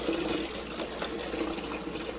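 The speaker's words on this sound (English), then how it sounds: "I'm going to put some water in from the Dreo water filtration system" Water pours steadily from a Dreo filtration pitcher into a portable ice maker, a continuous close trickling and splashing stream at moderate level with no pauses.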